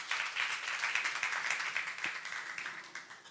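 A church congregation at a youth service gives soft, distant applause, a continuous hiss of many hands clapping that gradually fades toward the end.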